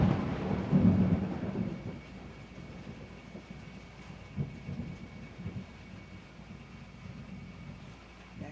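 Thunder rolls loudly at the start, then fades into a low continuous rumble with scattered softer booms over a steady background.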